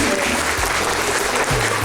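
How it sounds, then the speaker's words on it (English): Loud, dense round of applause from guests at a birthday party for two women, filling the whole stretch, with voices audible in the crowd underneath. "Everybody to give a big round of applause for all the beautiful ladies who are here."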